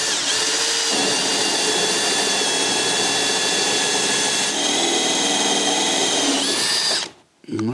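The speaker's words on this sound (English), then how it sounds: "this is the kind of bit I'm using to drill the holes in the planks" A power drill bores holes through wooden planks during an old house restoration, a loud continuous whine held close for about seven seconds before it abruptly cuts off.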